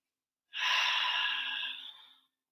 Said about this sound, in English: Nice big breaths in and out.